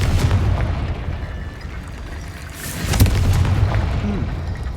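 A Confringo spell explosion blasts a barricade in the Hogwarts Legacy video game, a heavy booming burst that rumbles through a dense low background before fading out.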